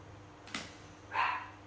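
Dog barking indoors: a short sharp bark followed by a second, longer bark, moderately loud over a quiet background hum.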